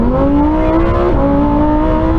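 A Ferrari 488 Pista, Lamborghini STO and Porsche 911 GT3 accelerate hard side by side in a drag race from a rolling start in manual mode, engines roaring loud and close with rising pitch and a brief dip at a gear change.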